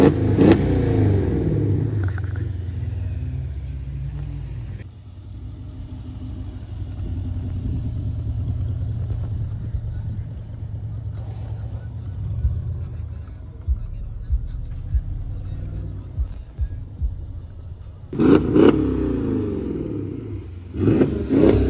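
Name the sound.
car revving while doing a donut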